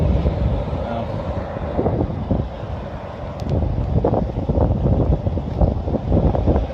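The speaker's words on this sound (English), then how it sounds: "really windy" Gusty wind rumbles and thumps across the microphone in uneven bursts in Trinidad, Colorado, with a muffled voice faintly underneath.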